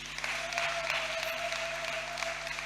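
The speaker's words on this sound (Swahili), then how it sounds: "Hebu tumpigie Bwana makofi." Church congregation applauding during a second worship service, a steady wash of clapping that stays fairly even and moderately loud throughout, with a sustained tone running faintly beneath it.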